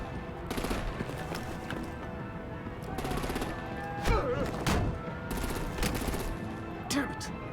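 Gunfire and artillery in the Batman: The Enemy Within video game, with rapid bursts of automatic fire and heavy blasts repeating in waves, loud and close, with game voices shouting in between.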